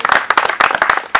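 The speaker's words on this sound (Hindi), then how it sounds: "पहले तो उसके लिए जोरदार ताली बजा दीजिए" An audience at a Hindi Diwas literary evening claps for the organising literary group, brief close irregular hand claps of a small gathering.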